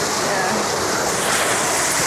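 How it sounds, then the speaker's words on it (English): A waterfall beside a building pours in a loud, steady, close roar of rushing water that fills the whole moment without a break. "Got a waterfall and this view."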